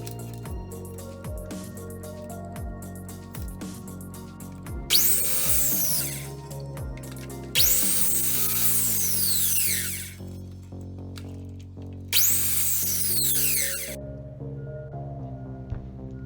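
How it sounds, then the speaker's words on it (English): A power tool whirs through three separate cutting bursts of harsh, bright noise, cutting wooden dowels to 4 inches, with motor spin-ups and tapping between them. "you can go ahead and cut your dowels to 4 inches long"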